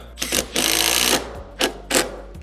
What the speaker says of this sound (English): what I'm gonna do is tighten this down.